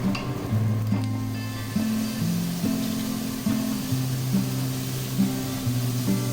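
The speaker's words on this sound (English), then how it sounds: "Then add the mushroom and cook for another 5 minutes." Onion and mushroom sizzle steadily in a hot pan, a continuous close frying hiss with occasional stirring, under soft background music.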